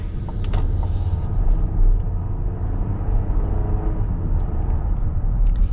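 A 2025 GMC Acadia Elevation family SUV pulls away with a steady low engine drone and tyre rumble, building through smooth gear changes, heard from inside the cabin with no talking.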